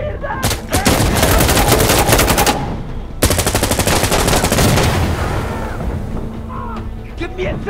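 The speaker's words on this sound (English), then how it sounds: "Explosive artillery on this target!" Artillery and gunfire roar through a firefight in Insurgency: Sandstorm, with loud rapid machine-gun bursts and heavy booming blasts close by, a brief gap, then more sustained firing that fades toward the end.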